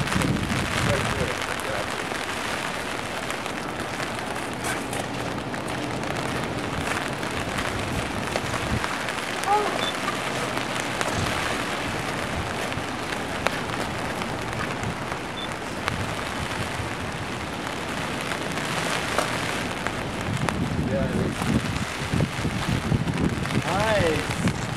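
Rain falls steadily on a rooftop as a dense, even hiss with scattered drops, continuous and moderately loud, with faint voices at times beneath it.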